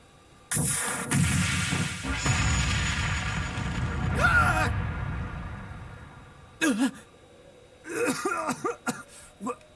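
A loud, sudden mine explosion in the video game Trails of Cold Steel II bursts out and rumbles on for several seconds, followed by scattered short bursts and voices near the end.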